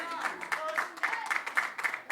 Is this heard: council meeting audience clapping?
yes